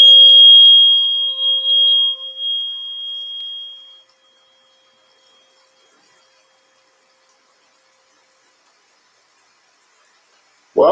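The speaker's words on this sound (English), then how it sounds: "Little healing tones there for everybody right now." Steady electronic healing tones, a pure high pitch layered with softer lower tones, holding for about four seconds before fading out into near silence, then a brief sharp sound at the very end.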